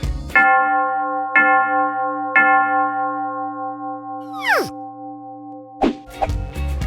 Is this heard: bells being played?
yes